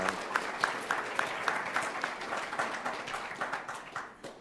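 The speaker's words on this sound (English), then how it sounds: "Let's give them a round of applause as well." Audience applause at a Pro Football Hall of Fame event, with dense, rhythmic clapping from a crowd that holds steady and then gradually thins. No voices come through clearly.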